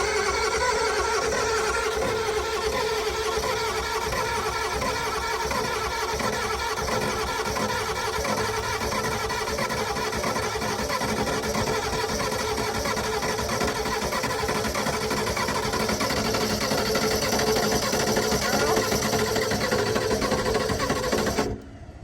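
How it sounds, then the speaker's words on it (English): A stub truck's V8 engine, low on compression in six or seven of its eight cylinders, runs with a loud, steady, uneven mechanical chatter that continues without a break before cutting off abruptly at the very end. "Sounds like it doesn't have much compression on 6 to 7 of 8 cylinders."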